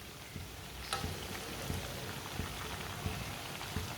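Chicken and spinach shami kebabs fry in a pan, giving a soft, steady sizzle with faint crackles and pops scattered through it, quiet and with no talk.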